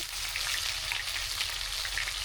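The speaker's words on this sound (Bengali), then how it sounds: "তেল গরম হয়ে গিয়েছে এখন বেটে রাখা সবগুলো মশলা দিয়ে দেব" Ground spice pastes of onion, ginger and garlic sizzle and crackle in hot oil in a village kitchen, a steady close, bright frying hiss with scattered pops, heard on its own.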